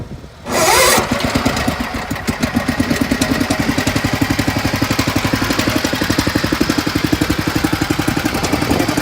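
A small engine starts after a brief pause and settles into a steady, fast idle, its even putting pulses running loud and close throughout.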